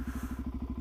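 A Suzuki DRZ400SM supermoto motorcycle pulls away, its single-cylinder engine thumping in a quick, even pulse at low volume with no other sound.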